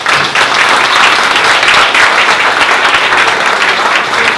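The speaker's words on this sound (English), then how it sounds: "Can we get a round of applause for Kritish?" An audience at a 1 Million Cups Dallas event breaks into loud, sustained applause, with dense steady clapping and no talking.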